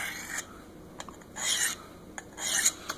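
A knife blade drawn across a Work Sharp Field Sharpener in several close, rasping strokes, each a short scraping pass with brief pauses between, no voices.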